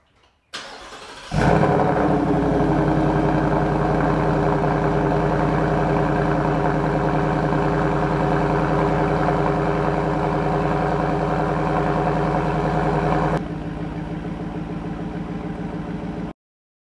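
A 2023 Ford F-150 Coyote V8 with a new Corsa Extreme exhaust cranks and roars to life, settling into a loud, steady, deep rumbling idle close by, then dropping slightly in level near the end.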